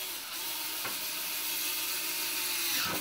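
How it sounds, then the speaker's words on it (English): A power drill bores a bolt hole while fitting parts on a home-built follow-me robot, giving a steady, continuous whirring drone close by, with no talking. "we'll just use our drill that we used to drill out those brackets"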